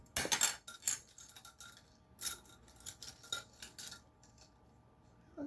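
A metal spoon clinks and scrapes against a dish of strawberry cobbler topped with cream, a few sharp close taps followed by lighter scattered clicks and rattles, with no voices.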